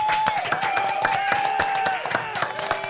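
Brief applause and scattered clapping from a small group, sharp individual claps over a steady tone, with some talk mixed in.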